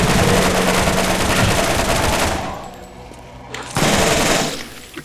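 A machine gun with a 72-round magazine in Borderlands fires in a loud, sustained burst, stops for about a second, then rips off a second burst, with no talk over it.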